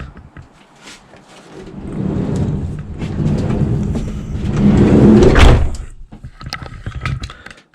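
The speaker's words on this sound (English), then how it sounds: "Let's shut the door, keep the wind out." A door is pulled shut against strong wind, a long scraping slide building to a heavy thud, with gusts rumbling around it and a few lighter knocks after.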